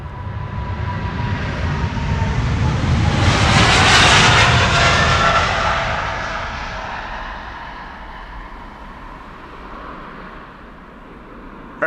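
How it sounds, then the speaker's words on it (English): A KLM Boeing 777-300 roars on its takeoff run at Amsterdam Schiphol, the jet noise swelling to a loud peak and then fading as it climbs away, heard from a distance with no voices. "KLM flight 713 to Paramaribo in Suriname. 777-300 the PHB VP"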